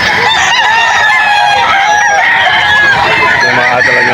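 Chickens and roosters at a poultry market in Bocaue, Bulacan fill the air with loud, dense overlapping crowing and clucking. Goose-like honks mix in, and a voice murmurs underneath.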